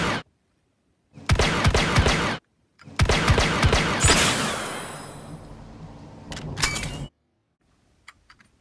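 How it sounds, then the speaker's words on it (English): Han Solo's DL-44 blaster fires in the Battlefront video game as loud bursts of rapid zapping shots. A long volley trails off in a sweeping, fading tail, followed by a few short, quieter pops. "So the shooting represented in Battlefront would be this."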